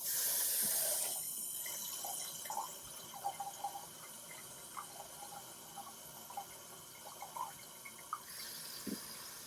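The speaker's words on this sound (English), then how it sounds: "don't fill it too quickly of a pace, because if you do that, it could splash everywhere" Water with ice runs from a kitchen faucet into a flower vase, a faint steady hiss of flow with scattered small clinks and splashes of ice, after a louder gush at the start.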